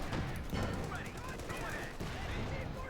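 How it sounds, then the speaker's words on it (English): Gunfire from Company of Heroes 2 battle, with Sherman tanks, a howitzer and a Panther in play, forms dense, continuous bursts of rapid shots and distant impacts under a steady wash of game noise. "Guns being hammered there."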